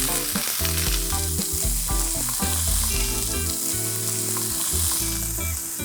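Soaked basmati rice is sautéed with cauliflower in a pan for mint pulao, a loud, steady close-up sizzle with stirring scrapes throughout, and no talking.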